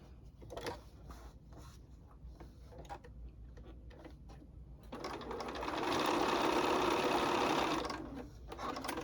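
A sewing machine stitches quilt fabric pieces for a charm-pack bowtie block. A few light ticks and clicks come first, then a steady, close run of stitching lasts several seconds before stopping.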